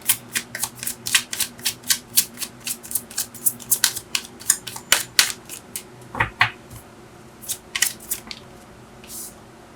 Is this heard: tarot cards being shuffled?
yes